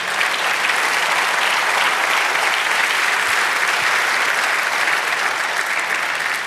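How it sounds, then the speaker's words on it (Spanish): Steady, dense applause from a church congregation during a sermon, loud and sustained without a break for several seconds. "Denle un aplauso al Señor."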